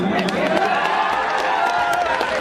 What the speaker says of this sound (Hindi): इनकी खूबसूरती पे ताली बजाई।